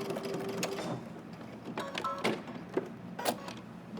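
A sewing machine stitches along a jacket welt pocket bag, tacking it down, running in short mechanical bursts with a few clicks and knocks nearby, no one talking.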